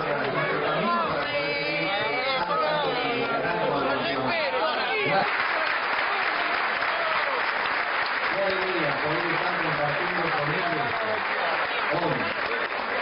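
A crowd claps hands, a dense continuous patter running for about thirteen seconds beneath a lively babble of voices and chatter, with people talking throughout.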